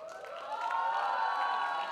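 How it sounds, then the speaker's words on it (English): A college fest crowd at a fashion show in Mumbai cheers and applauds a brand manager, a sustained whooping roar of voices with scattered claps swelling slightly and holding steady. "Give a huge round of applause for him."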